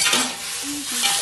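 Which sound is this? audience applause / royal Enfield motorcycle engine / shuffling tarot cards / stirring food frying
stirring food frying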